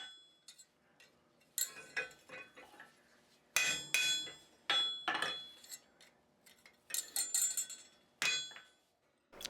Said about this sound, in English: I'll run the punch from both sides to get the inside of the hole as straight as